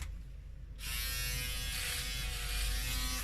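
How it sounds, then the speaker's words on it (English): An electric shaver switches on after a brief quiet moment and then buzzes steadily at close range, a bright, continuous whine that holds for the rest of the clip with no talking. "another kind of shaver."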